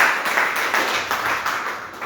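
Crowd applause at a public talk in Meerut, a dense steady wash of many hands clapping that continues without a break and eases slightly toward the end, with no voices on top.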